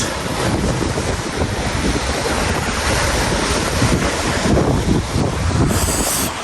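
Ocean waves roll and crash steadily on the shore at Seogwipo on Jeju Island, a loud, continuous roar with heavy wind buffeting the microphone.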